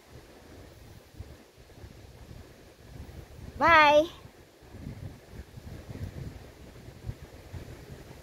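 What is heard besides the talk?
strong wind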